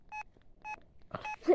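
Keypad tones from a flip phone, three short beeps in an even rhythm, the last overlapping a brief rustle and click, close and clear.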